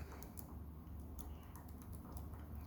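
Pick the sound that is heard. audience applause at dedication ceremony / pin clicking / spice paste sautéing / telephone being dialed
pin clicking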